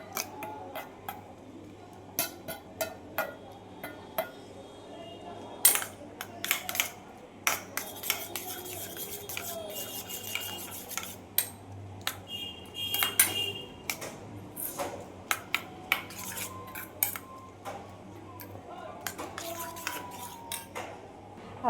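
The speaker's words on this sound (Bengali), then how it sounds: "তো চলো ডিমটাকে ভালো করে চামচে করে ফাটিয়ে নিই" Egg beaten with a spoon in a bowl, rendered as a string of quick, light clinks and taps at an irregular rhythm, quiet and close with no talking.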